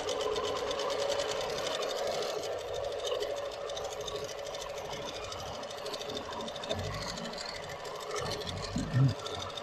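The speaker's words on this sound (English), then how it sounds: "So that's running at 775 stitches per minute, which is about a third of the machine maximum speed." A Moxie XL longarm quilting machine stitching at speed, about 775 stitches per minute, gives a steady, fast, close mechanical whir and rattle, with a person talking under it.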